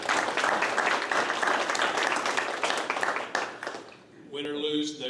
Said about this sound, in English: let's all give them one more big round of applause again